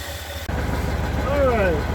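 Engine of a 1958 Edsel with a rebuilt Edelbrock carburetor idling steadily with a low, even rumble, close by, as a voice talks over it.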